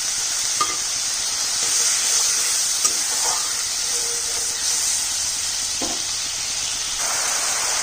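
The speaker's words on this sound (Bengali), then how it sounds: "মশলাটা একটু কষাবো" Spice paste sautéing in a pan for an old-style bata fish curry, a strong continuous hiss and sizzle with a few soft stirring knocks, close and steady with no voices.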